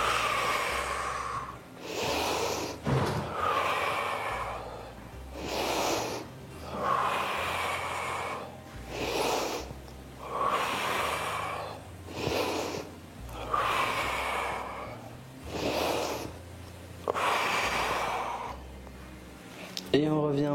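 Heavy rhythmic breathing during a bodyweight strength exercise done without machines, with strong inhales and exhales repeating about every two seconds, close and loud, sometimes with a snorting rasp.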